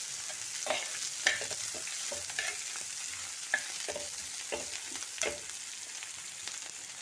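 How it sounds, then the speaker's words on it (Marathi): Chopped spring onion stir-fried over high flame for hotel-style chicken chilli, with a steady close sizzle broken by repeated scraping strokes of a spatula in the pan. "कांदा टाकते आणि चायनीज पदार्थ नेहमी हाय फ्लेमवरच करायचे असतात"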